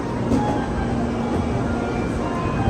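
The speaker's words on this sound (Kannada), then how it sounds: "ನಾವು ಹೋಗುವಂಥ ಬುಲೆಟ್ ಟ್ರೈನ್ ಇದು ನೋಡಿ" A bullet train pulls into a station with a steady, close, low rumble and a constant mechanical hum, unbroken throughout.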